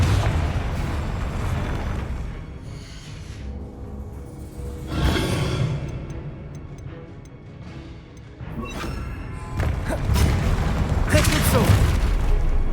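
Confringo blasting spells in Hogwarts Legacy, a series of heavy booms and crashing impacts, some with bright crackling bursts, under a continuous rumbling game soundscape.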